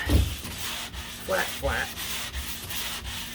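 Wet block sanding across the deck lid of a 1969 C3 Corvette, with steady broad abrasive rubbing strokes that are close and moderately loud, plus a couple of brief squeaky swipes partway through.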